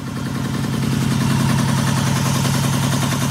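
A Yamaha XS cafe racer motorcycle engine, warmed up after restoration, runs close by with a steady, loud, rapid throbbing pulse and a slight rise in level, alone without speech.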